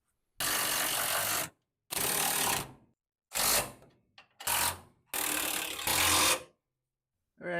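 A ratchet tightening bolts on the suspension of a 1979 Ford F100 during a DJM Dream Beams install: several loud, close bursts of rapid mechanical clatter, each about a second long, separated by short silent gaps.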